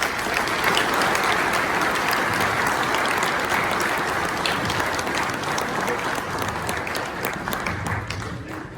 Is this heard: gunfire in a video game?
no